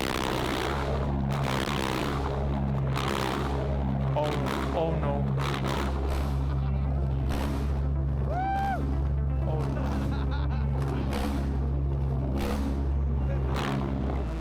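A loud, steady roar of a small homemade jet engine mounted on a swing running continuously, with a person exclaiming in alarm over the noise.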